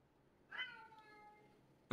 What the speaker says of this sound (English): My cat was feeling talkative tonight, so I let him call our dog in.